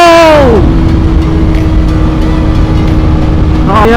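A KTM RC 200 motorcycle cruising at high speed on a highway, its engine droning loud and steady beneath strong wind rush, the pitch sweeping down at the start and rising again at the end.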